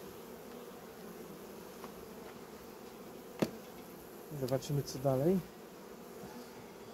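A low, steady hum of honey bees at a hive runs beneath a quiet voice speaking briefly, with a few sharper tones near the end.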